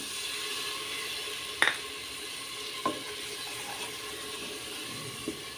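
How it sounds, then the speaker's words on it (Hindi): Spiced masala with ginger, green chilli and a splash of water being fried in a pan for masoor dal, a soft steady sizzle broken by a few sharp stirring scrapes and clinks, quiet and close. "थोड़ा पानी डालकर भूनेंगे"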